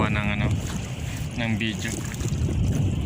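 Wind buffets a small boat on the water at night while crab catching, a steady loud rush under nearby talk.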